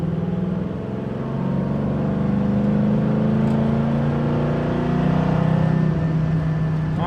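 A 1969 Chevrolet Camaro restomod pulls hard with a deep, loud engine drone that rises steadily in pitch, dips once during a gear change, then climbs again, heard from inside with no talk.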